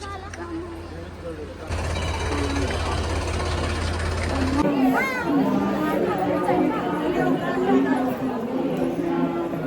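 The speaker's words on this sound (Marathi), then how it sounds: "किती गर्दी आहे" A busy crowd at Mahalakshmi temple, a dense hum of many overlapping voices and chatter with a steady rumble underneath, close and continuous, with people talking nearby.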